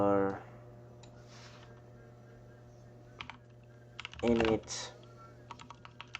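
Computer keyboard clacking as a git commit message is typed, scattered key presses with a brief fast burst near the middle, all fairly faint, with someone speaking briefly at the start and middle.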